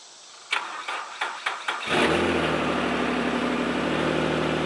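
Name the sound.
car engine starting after being jump-started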